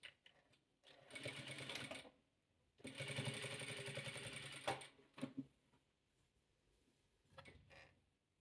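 Domestic sewing machine stitching patchwork squares together for a pineapple-pattern quilt, running in two steady bursts of rapid needle chatter separated by pauses, with softer handling noises between.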